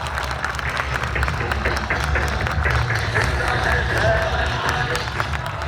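A crowd at a 2022 Muhajir Qaumi Movement political rally in Pakistan claps in a steady, dense wash of applause, with a voice speaking over it.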